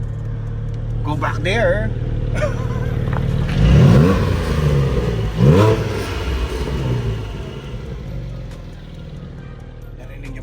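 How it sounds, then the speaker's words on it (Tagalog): A 2021 Porsche Cayman GT4 with sports exhaust revs loudly twice, engine pitch swooping up and down, with a steady idle rumble and a voice talking briefly over it. "Guys, this is the sports exhaust."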